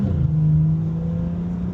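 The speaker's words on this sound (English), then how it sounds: "So we're gonna go ahead and take the car for a test drive." A car with an N55 engine and an upgraded high-pressure fuel pump pulls hard on a test drive, a loud, close, sustained engine drone with a steady low tone and no voices.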